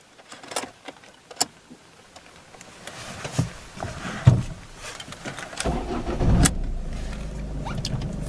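A 2010 Ford Focus Style starts up: scattered clicks and handling noises first, then the engine catches and settles into a steady, fairly loud idle hum for the last few seconds.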